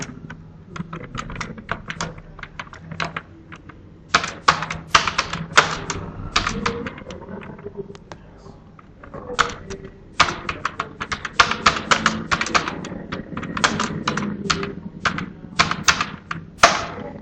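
Rapid clattering keystrokes on a computer keyboard while Python code is typed, coming in dense bursts with short pauses, close and fairly loud, with no voices.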